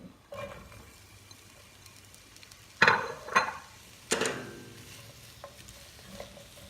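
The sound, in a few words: onions sauteing in olive oil in a hot skillet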